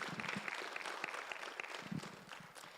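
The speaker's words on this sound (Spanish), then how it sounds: "denle un aplauso al Señor." A church congregation applauds together during a sermon, giving a fairly faint, steady patter of clapping from many hands in a large room.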